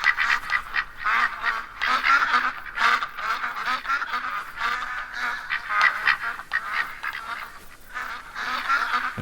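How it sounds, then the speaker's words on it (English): Ducks in theHunter: Call of the Wild quack and honk continuously in a loud flock, calls overlapping in a busy chattering rhythm that sounds fairly close, with no talking. "But I don't know anything about duck. They're loud."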